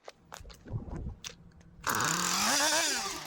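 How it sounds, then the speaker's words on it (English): A Craftsman 42cc gas chainsaw with a 16-inch bar roars to life after a few quiet knocks and handling sounds, running loud and close with its engine revving up and down. "The chainsaw I'm using here is a Craftsman 42cc 16-inch"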